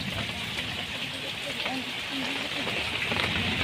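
Heavy monsoon rain falls onto a house where water is coming inside, making a steady, dense hiss that is moderately loud throughout, with a voice speaking faintly over it.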